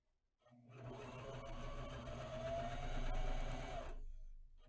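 A Janome HD 3000 BE sewing machine stitches a fabric mask at a stitch length of 2, giving one close, steady whirring run of about four seconds that starts and stops abruptly, with silence on either side.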